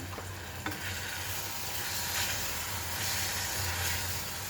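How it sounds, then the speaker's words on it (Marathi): Chopped spring onion greens being stirred in a frying pan, a steady close sizzle with soft scraping from the spatula, continuous and fairly quiet with no talking. "भाजी हलवून घेऊ"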